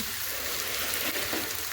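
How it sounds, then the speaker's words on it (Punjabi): Soybean granules sizzle as they are tempered in a pan on an indoor gas stove, a steady close hiss lasting the whole moment. "ਲੋ ਇੱਧਰ ਆਪਣਾ ਤੜਕਾ ਲੱਗਦਾ ਪਿਆ ਸੋਇਆ ਬੀਨ ਦਾ ਚੂਰਾ"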